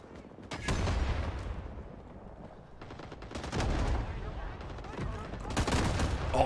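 Bursts of automatic rifle and machine-gun fire in the Vietnam War shooter Rising Storm 2: Vietnam, three heavy volleys of rapid overlapping shots near and loud, separated by quieter stretches of scattered firing.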